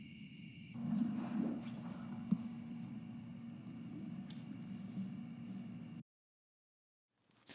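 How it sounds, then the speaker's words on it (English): Cricket chirping layered as night ambience in a short film, a steady insect drone with a faint hum that cuts abruptly to silence near the end. "I might want to bring the cricket noises back up again."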